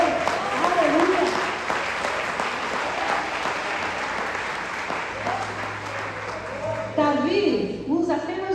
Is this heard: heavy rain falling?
no